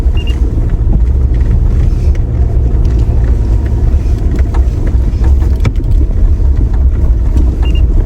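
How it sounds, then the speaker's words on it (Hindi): An off-road vehicle grinds along a rough, untraveled jungle track, a loud, steady engine rumble with wind buffeting the microphone and occasional knocks and jolts from the uneven ground, with no talking. "अभी यहाँ से हमारी गाड़ी गुजर के जाएगी"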